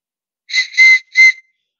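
A water whistle blown in three short, loud, clear trills, with a brief pause before the last, and no other sound around it.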